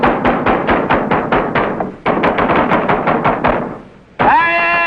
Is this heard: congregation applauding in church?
no